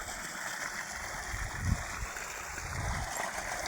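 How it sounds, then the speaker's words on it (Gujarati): Irrigation water pumped by two running motors pours into a farm field among coconut palms, a steady close rush of flowing water with low gurgling swells. "જો કેવું મસ્તીનું પાણી આવે છે"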